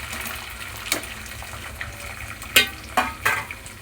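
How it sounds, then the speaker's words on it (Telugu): Chopped onion pieces drop into hot oil after curry leaves and green chillies, giving a steady low sizzle with a few sharper crackles and splashes near the end. "ఇందులో ఇప్పుడు ఉల్లిపాయ ముక్కలు కూడా వేసుకుందాం."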